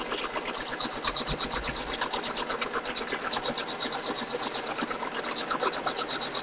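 An embroidery machine stitches a notebook cover in the hoop, a steady, close, rapid mechanical clatter running continuously without pause.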